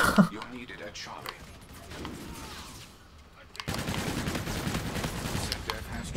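Gunfire from Call of Duty: Infinite Warfare crackles in scattered bursts, quieter early on and then a louder sustained stretch in the second half, with voices talking over parts of it.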